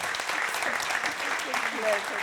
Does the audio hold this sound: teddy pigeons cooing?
no